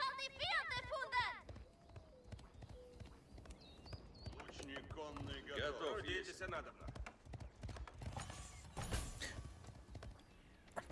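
Horse archers' hooves in a strategy video game clatter in rapid clip-clop runs with occasional whinnies, mixed with game effects and a voice talking over them.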